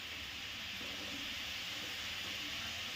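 Jaggery gavvalu fry in hot oil with a continuous, even sizzling hiss, steady and close, with no talk over it.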